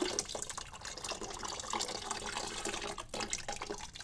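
Liquid glaze pours steadily over the back of a ceramic plate, a continuous close splashing trickle with no talk over it.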